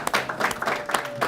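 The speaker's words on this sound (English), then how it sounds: "Give Derek a round of applause." A short burst of applause from an audience, scattered claps overlapping in an uneven patter.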